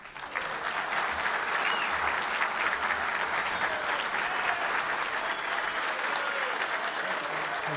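An audience applauds steadily to welcome a priest to the stage, sustained clapping from a sizeable crowd filling the room at an even, continuous level.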